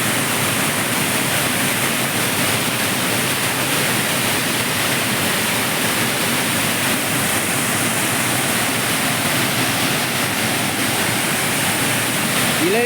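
Mookana Mane waterfall roars close by in a loud, unbroken wash of rushing water that holds steady and dense for the whole stretch, with no voices heard over it.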